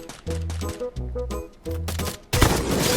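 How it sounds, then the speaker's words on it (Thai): Gunfire in the mobile battle royale game Free Fire, with short bursts of rapid shots breaking in over looping game music, then a sudden loud, sustained volley near the end. "มันยังมีคนยิงอยู่อ่ะ"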